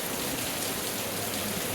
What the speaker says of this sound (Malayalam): എന്തായാലും ഞങ്ങൾ ചെന്ന ദിവസം മഴയുണ്ടായിരുന്നു